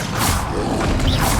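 Bombarda blasting spell cast in the Hogwarts Legacy video game, a loud crunching burst with whooshing and creaking debris over about a second, up close and alone.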